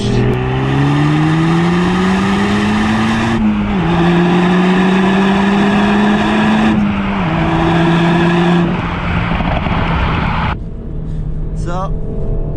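Renault Mégane RS Trophy driven in race mode, its engine droning loud and close from inside the cabin with rising revs through the gears, brief dips at each shift and a short quieter stretch near the end.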